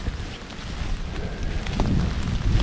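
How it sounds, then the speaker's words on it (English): Steady gusting wind buffeting the microphone, a low rumbling roar throughout with no voices. "And it's still windy"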